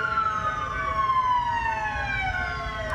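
A wailing emergency rescue vehicle siren sweeps steadily downward in pitch, loud and close, with traffic rumble underneath in a flooded city.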